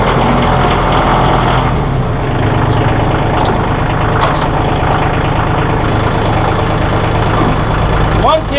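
A tractor engine idles with a steady low mechanical rumble and vibration, close and continuous throughout, with someone talking over it.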